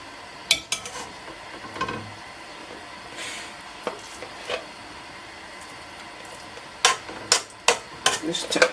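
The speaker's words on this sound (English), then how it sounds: "Just try to stir the palm oil so we can see how much is in there" Palm oil stirred in a cooking pot for egusi soup, with scattered utensil scrapes and clinks against the pot, sparse early and bunching into a quick cluster of sharper knocks toward the end.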